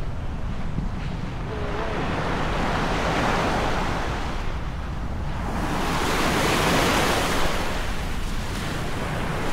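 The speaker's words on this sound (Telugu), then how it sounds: "మన ఉరుగ్వే బీచ్ పొసిటోస్." Ocean waves roll onto Pocitos beach in Montevideo, Uruguay, a loud continuous wash of surf that swells and recedes in slow surges, with wind buffeting the microphone.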